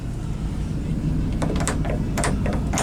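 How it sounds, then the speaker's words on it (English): A storage unit door latch, just sprayed with lubricant, gives a few scraping, clicking metallic sounds over a steady background hum. "Oh, the door latch."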